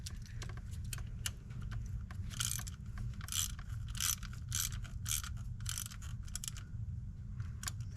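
Metallic clicking and ratcheting from tightening parts on a Maserati Ghibli during oil pressure sensor replacement, a dense run of close, sharp clicks and jangles over a steady low hum.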